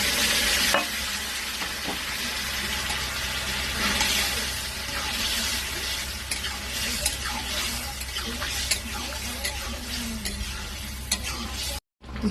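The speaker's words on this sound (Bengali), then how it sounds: "আমি ডালটা দিয়ে দেবো এর মধ্যে।" Dal goes into a hot pan and sizzles loudly and steadily, with scraping stir strokes and light clinks of a spoon throughout before the sound cuts off abruptly.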